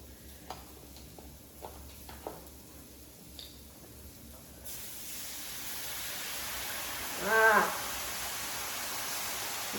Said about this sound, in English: So I'm going to go ahead now and add my 32 ounces of beef broth.